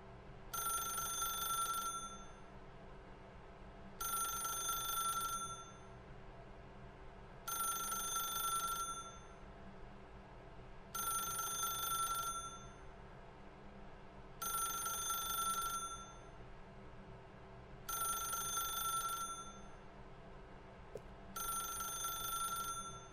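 A telephone rings inside The Stanley Parable video game: seven evenly spaced bursts of a bright electronic bell, each about two seconds long with short gaps, clear and prominent over a steady low background hum.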